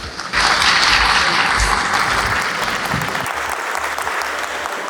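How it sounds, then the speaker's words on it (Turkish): Applause breaks out from the audience at the BUMATECH fair opening for Emre Gencer, loud dense clapping that swells quickly, holds, then gradually thins, with a faint voice under it. "Emre Gencer'i yine alkışlarınıza davet ediyoruz"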